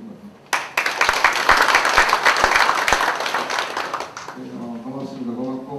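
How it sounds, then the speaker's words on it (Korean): An audience at a debate forum in Daegu bursts into applause for the moderators, a loud wash of many hands that swells, holds for several seconds and then fades as a voice begins speaking over the tail. "또 진행자들에게 박수 한번 드립니다."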